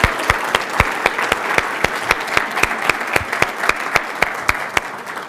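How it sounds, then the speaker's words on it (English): Steady applause from a crowd, a dense wash of clapping with sharp individual claps standing out in a regular rhythm throughout. "So let's give John Taylor a big round of applause"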